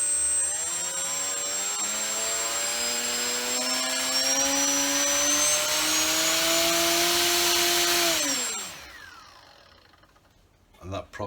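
Fokker Dr.I model airplane's engine and propeller revving up to full throttle, a loud sustained whine climbing steadily in pitch for about eight seconds, then dropping away sharply as the engine winds down.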